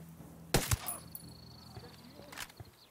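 Two sharp, loud gunshots crack in quick succession in Ghost Recon Wildlands, followed by quieter game sounds and another burst of impact noise.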